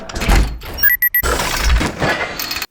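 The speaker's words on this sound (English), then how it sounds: "click the base plate back on and load it back into your pistol" An airsoft magazine is seated into a KWA G19 gas pistol, a few sharp plastic-and-metal clicks and a firm snap standing alone between stretches of quiet handling noise.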